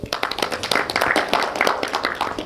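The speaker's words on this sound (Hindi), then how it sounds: "ताली बजा दो एक बार जोरदार" An audience at a first aid and CPR training session claps hands, a dense, lively burst of many overlapping claps at close to moderate distance, sustained without talk.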